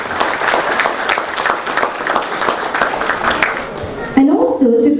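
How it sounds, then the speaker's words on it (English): Energetic applause and clapping from an audience at an interior design awards evening in a hotel venue, dense and lively for about four seconds before a voice breaks in over the end. "all of you are going to raise your hands up in the air and clap for yourself"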